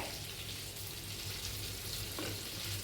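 A steady crackling sizzle of river prawns frying in a pan, continuous and fairly close, with no voices.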